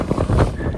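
Strong wind buffets the microphone at a paragliding launch, a loud, continuous rumbling roar that gusts unevenly.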